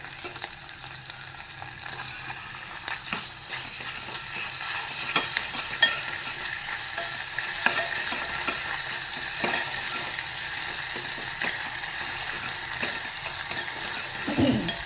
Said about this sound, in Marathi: आलं लसणाची पेस्ट टाकून घेतली.